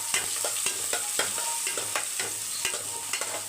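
Onions and whole spices such as cinnamon and cloves sautéing in oil for meal maker biryani, with steady sizzle and repeated stirring scrapes of a spoon against the pan, close and fairly loud, no talking.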